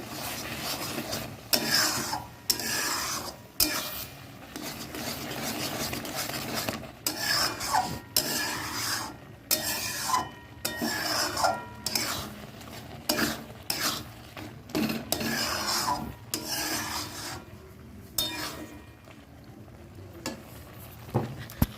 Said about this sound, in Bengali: তো এটাকে একটু হাতে ডলে নিয়ে এর মধ্যে দিয়ে দেবো নাড়িয়ে এটাকে মিশিয়ে দিই